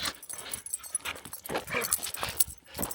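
A puppy on a forest truck-camping trip whimpers and pants near the microphone in short irregular bursts, with soft rustling between them.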